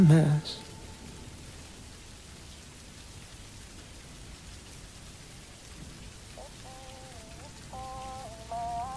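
Steady rain falls throughout, a dense even hiss of drops on a surface, with a brief louder burst at the start and a soft melodic tone entering near the end over the rain.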